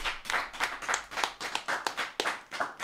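A small group of people clapping in the studio of a French football talk show, a loose run of separate hand claps at close range, fairly quiet, with no voices over it.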